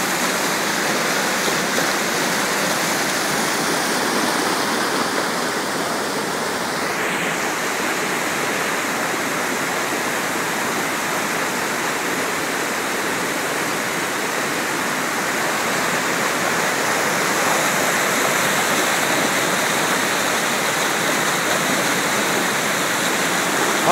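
Water pours over the Forquilha reservoir spillway in Maranguape, Ceará, after heavy rain, making a continuous, dense roar of falling and rushing water that holds steady and loud throughout with no voices.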